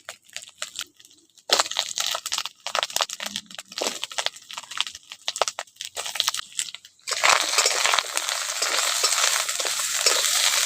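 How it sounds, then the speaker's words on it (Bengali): Potatoes are stirred in a pan with scraping and clattering at first, then break into a loud, steady sizzle of frying in the second half. "আলুটাকে একটু ভাজার পর তারপর কুমড়োটা দিয়ে দেবো।"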